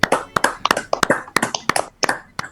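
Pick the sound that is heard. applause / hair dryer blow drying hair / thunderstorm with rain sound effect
applause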